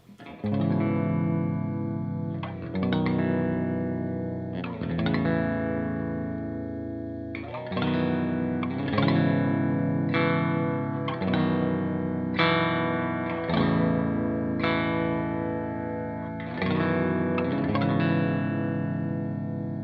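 A low, distorted Bass VI with a chorus-like shimmer on the bridge pickup, strangle switch engaged, strums a steady series of chords, each struck and held, close and fairly loud throughout.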